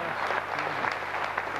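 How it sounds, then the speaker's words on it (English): Studio audience applauding Penzance's quiz team on a 1993 West Country TV quiz show, a dense steady wash of clapping throughout the short stretch, with no pause. "round of applause there."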